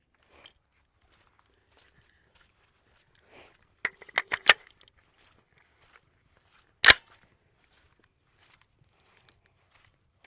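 Several sharp gunshots from a Brigade BM15 rifle: a quick cluster of four or five crisp cracks, a lone louder shot a few seconds later, then faint clicks in an otherwise quiet setting.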